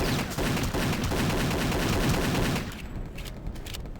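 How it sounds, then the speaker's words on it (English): Rapid, sustained machine-gun fire from a tank in the Return to Castle Wolfenstein video game, loud and continuous bursts that ease slightly toward the end, with no talk over them. "firing the machine gun on it."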